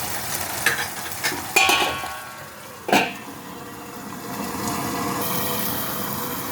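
Chicken mince stirred in a pan, with scrapes and knocks of the spoon against the metal over a low, steady sizzle that swells toward the end.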